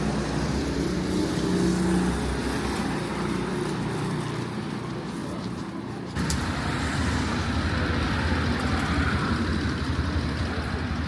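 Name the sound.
small car driving past on city street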